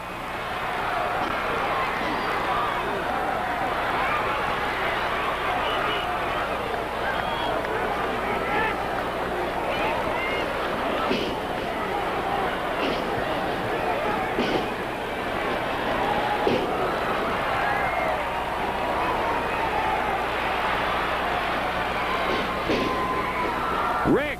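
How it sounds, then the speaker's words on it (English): A wrestling crowd in a 1980 Memphis arena cheers and roars in a continuous dense din, with occasional thuds from the ring and a commentator talking over it. "Crowd loving it."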